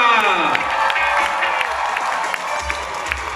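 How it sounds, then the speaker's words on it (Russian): An audience at a concert for the March 8 holiday applauds and cheers, steady dense clapping with a few whoops, fairly close and loud throughout. "эти аплодисменты вам!"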